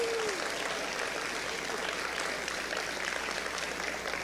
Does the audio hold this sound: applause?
yes